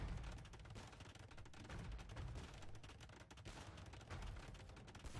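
Six cannon galleons in Age of Empires pound a castle with dense, overlapping booms and cracks, a rapid irregular volley that keeps firing from start to end, faint overall.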